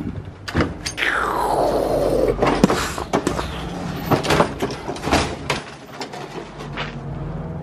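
A door is opened and shifted at a house, with a scraping, sliding drag, sharp clunks and knocks scattered through several seconds, near and fairly loud.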